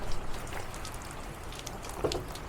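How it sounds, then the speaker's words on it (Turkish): Rain falls outside at the Helicon Art Center lodgings, a soft, steady patter of drops with a few slightly louder splashes, faint and continuous. "Tabi şu anda yağmur yağdığı için çok çıkamıyoruz buraya."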